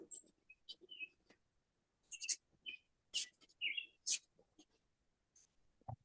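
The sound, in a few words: birds chirping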